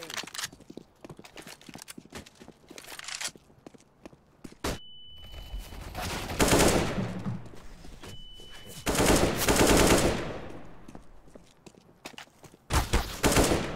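Counter-Strike gunfire comes in loud, rapid automatic bursts separated by quieter stretches of clicks and footsteps, with a few single shots near the end.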